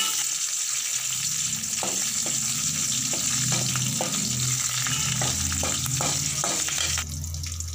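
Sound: curry leaves and green chillies frying in oil

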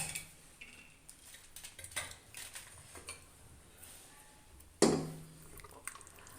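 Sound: stirring spice paste into pot

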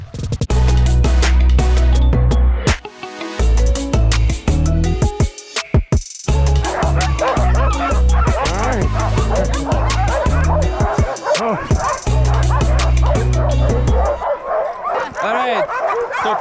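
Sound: sled dogs barking and yipping

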